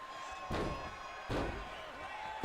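A wrestler slams an opponent onto the ring mat again and again at a wrestling event, with three heavy booming impacts spaced out over a murmuring crowd and commentary.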